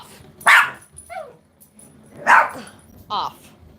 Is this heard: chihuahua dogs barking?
yes